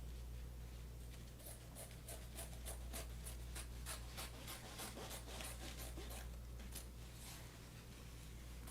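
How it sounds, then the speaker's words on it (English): Scissors cutting fabric during sewing, giving a papery snipping texture: a quiet, steady run of short rhythmic cuts and rasps over a low background hum, with no talking. "This kind of sounds like I'm cutting paper, which is kind of nice."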